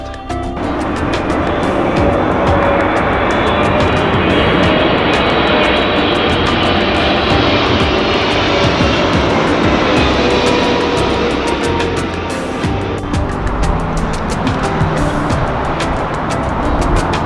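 Airplanes pass low overhead near an In-N-Out restaurant, a loud, sustained jet roar that swells and fills the whole stretch without letup, with faint ticking noise on top.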